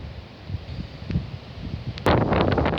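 High winds in Essex, UK, buffet the microphone outdoors near a young tree, a rumbling, gusty roar that swells, then surges into a loud, harsh blast near the end.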